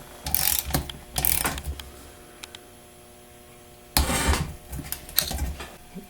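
A ratchet clicks in short bursts while bolts are torqued during a Turbo 400 transmission rebuild, with two quick bursts, a quiet gap, then two more, all close by and free of talk.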